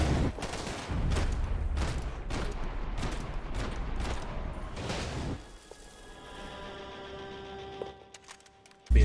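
Rapid gunfire bursts from the Max Payne 3 video game, loud and dense for about five seconds, then fading into quieter ambient tones with a final sharp hit near the end.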